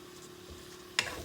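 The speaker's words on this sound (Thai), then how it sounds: "คั่วหอมกับกระเทียมให้มันหอมก่อนเนาะ" Fermented fish is dry-roasted with garlic in a pan, giving a soft, steady sizzle and faint stirring that ends in one sharp utensil tap.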